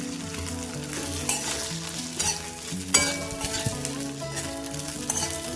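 Sago pearls sizzle and crackle as they fry in a pan with roasted potato and green chili, with scraping stirring strokes close up and no talking.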